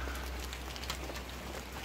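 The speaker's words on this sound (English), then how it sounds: "But the rain's come early." Rain falling steadily outdoors near a thatched roof under construction, a soft, even hiss of drops with faint scattered patters, fairly quiet and continuous with no voices.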